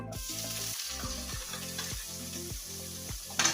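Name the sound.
onions frying in a pan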